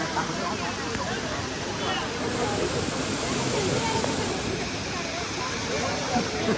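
Pane waterfall, a hidden cascade, pours in a loud, steady rush of water that never lets up, close by, with faint voices now and then under the roar.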